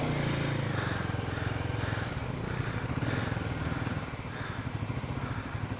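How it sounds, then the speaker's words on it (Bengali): A Bajaj NS200 motorcycle straining on a steep high-altitude mountain road in Ladakh, its engine a loud, continuous low drone with rough pulsing, dipping slightly near the end. "আমাদের NS200টা ঠিকঠাক পাওয়ার পাচ্ছে না,"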